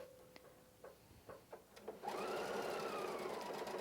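A PFAFF creative icon sewing machine stitching a corded buttonhole: a few separate needle clicks, then a steady close whirring run of stitching.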